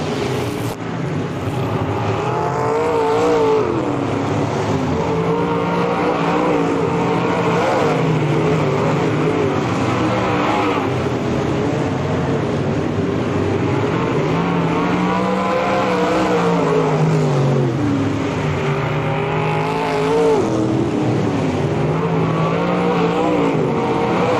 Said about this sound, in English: Billy Drake in the 9 car comes down the front stretch to take the white flag.